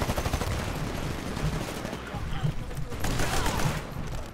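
Rapid pistol gunfire in the Titanfall video game, repeated sharp shots in quick bursts mixed with game explosions and effects, with a voice talking over the action.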